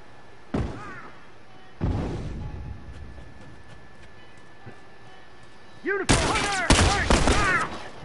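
Rifle shots crack out in short bursts during an online multiplayer match of the video game The Last of Us, with a loud rattling volley near the end. Players shout excitedly over the gunfire.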